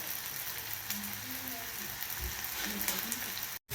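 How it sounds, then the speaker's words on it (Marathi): Chopped onion fries in hot oil in a pan with a dense, continuous crackling sizzle heard up close. The sound cuts out briefly at the very end. "कांदा लाल होईपर्यंत भाजून घ्यायचा आहे."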